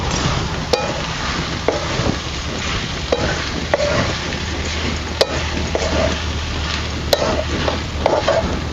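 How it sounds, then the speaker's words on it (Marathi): Soybean bhurji is stirred into masala in a hot pan, with a steady sizzling fry broken by sharp scrapes and clicks of the spoon against the pan at irregular intervals, close and loud, with no talking. "आपल्याला पूर्ण सगळं आहे ना मसालामध्ये एकजीव करून घ्यायचं आहे"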